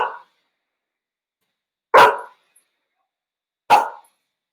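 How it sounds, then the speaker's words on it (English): A dog barks in three short, loud bursts spaced roughly two seconds apart, with silence in between and no talking. "sorry for the dog"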